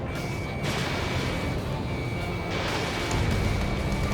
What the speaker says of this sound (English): That's what the anti-air guns are for.